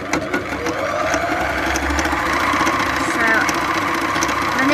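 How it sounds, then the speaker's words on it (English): An embellisher needle felting machine punches fibres with a rapid, even mechanical chatter and hum, running steadily and close throughout. "here is where I've started to use the embellisher"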